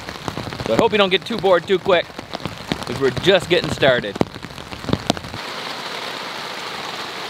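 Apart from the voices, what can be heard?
rain falling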